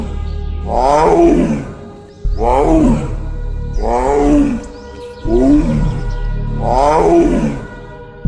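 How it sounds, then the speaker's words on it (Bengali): A big cat roars five times in steady succession, each deep, rumbling call rising and falling with short pauses between, loud and close with no talking. "তারপরেই শোনা যায় বাঘের গর্জন।"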